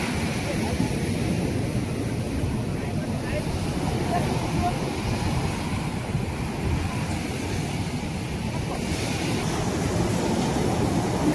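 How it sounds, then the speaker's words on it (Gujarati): A fishing boat pushing slowly through sea waves as it heads out, a steady loud rumble of water and engine mixed with wind buffeting the microphone throughout. "આ બોટ પણ મોજા પસાર કરતી ધીમે ધીમે આગળ વધતી જાય છે"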